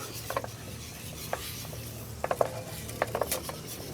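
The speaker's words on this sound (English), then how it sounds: "And then we're going to just stir that like this." Spoon stirring a mixture in a container, giving a few light scattered clinks and scrapes with pauses between them, close and fairly quiet, with no talking.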